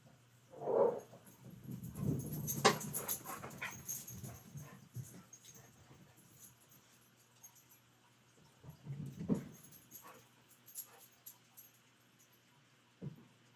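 Dogs whimper indoors in a home, a few brief, faint whines and snuffles separated by long quiet gaps.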